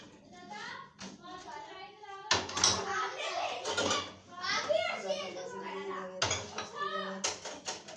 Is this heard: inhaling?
no